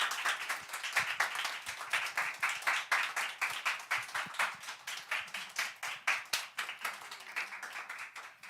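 Church congregation clapping to welcome missionary Han Bo-hyun of Eswatini, a steady run of many hands applauding together at moderate volume, fairly near, with no talk over it.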